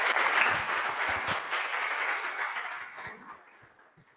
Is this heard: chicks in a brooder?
no